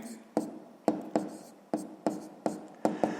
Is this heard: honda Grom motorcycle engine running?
no